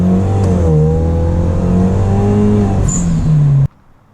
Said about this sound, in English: with that HKS blow-off valve, that nice whoosh, high pitch